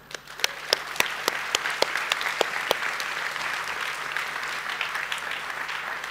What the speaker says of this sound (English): if you'll just join me in a round of applause for all these people